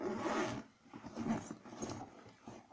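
A zipper pulled open on the second pocket of a school backpack, a close rasping unzip in a few uneven strokes, with no talk.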